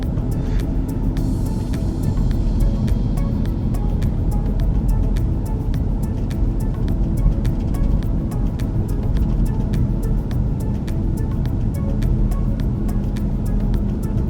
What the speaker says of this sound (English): Definitely a long line of traffic in this direction.